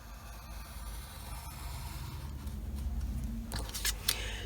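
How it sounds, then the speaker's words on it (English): Blade slicing through cardstock along a straight edge, a soft scraping drag building through the stroke with a few brighter snips near the end, close and quiet with no talk. "And now I'm just going to cut straight down."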